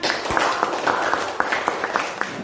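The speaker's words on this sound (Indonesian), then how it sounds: "Ya, tepuk tangan." Classmates applaud a group presentation during a classroom teaching-practice session, a short spell of scattered, uneven claps mixed with faint voices in the room.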